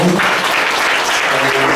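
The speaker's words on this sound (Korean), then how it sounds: "우리 재환이 정말 귀한 찬양 올려드렸는데 박수 한번 해주시고요." Brief, dense burst of congregation applause during a Sunday worship service in a church, following a sung hymn; the clapping is close and steady from start to end.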